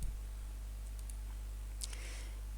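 A mouse click on an apply button during web page styling, heard as a faint, brief pair of clicks near the end over a steady low electrical hum.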